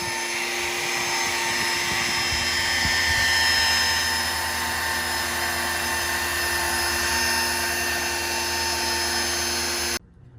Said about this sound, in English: a rotary polish with a heavy cut compound